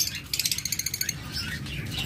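Pet lovebirds and cockatiels chirp in a quick rhythmic burst of high, bright tweets, then trail off into softer, scattered calls over a low background hum.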